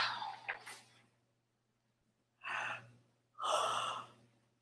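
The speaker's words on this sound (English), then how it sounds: "I'm yawning like a fool." One person yawns and exhales in long breathy swells late at night, two drawn-out yawns following an earlier short gasp, close and fairly quiet against a faint low hum.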